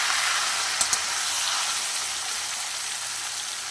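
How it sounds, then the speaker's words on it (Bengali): Boiled taro chunks go into a pan of fried catla fish head, setting off a steady broadband sizzle of frying oil, with two brief sharp clicks near the start. No one speaks. "এবার আমি কচুগুলো এর মধ্যে দিয়ে দিলাম"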